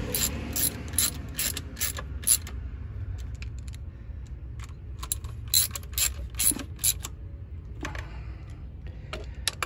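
A socket ratchet clicks in quick bursts while snugging the valve cover bolts on a 2007 Chrysler PT Cruiser, sharp close ratcheting strokes repeated with short pauses, no talk.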